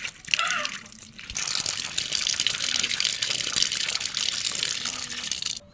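Water gushes steadily at a hand pump while fish are rubbed clean for a taki fish mash, a continuous close splashing flow that starts after a brief quieter moment and runs on without talk.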